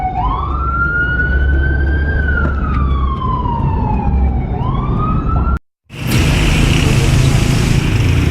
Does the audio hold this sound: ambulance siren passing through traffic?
yes